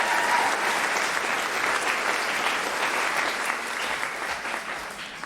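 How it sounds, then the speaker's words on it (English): Sustained applause from a theatre audience at a musical production, steady and dense clapping holding for several seconds with little variation and no voices over it. "Give Miriam a large round of applause."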